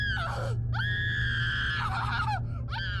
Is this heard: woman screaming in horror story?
yes